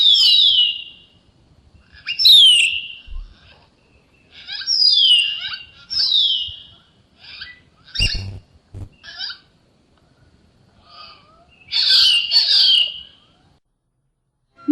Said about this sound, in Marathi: या सणसणीत चिडक्या पश्चिम घाटात ऐकू येतात तेव्हा खात्री पटते सारिकेच्या अस्तित्वाची